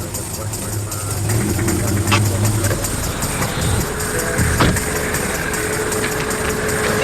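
A police patrol car's engine runs steadily as the car creeps forward, a close, continuous rumble with slight rises in level and a couple of faint clicks and knocks over the top.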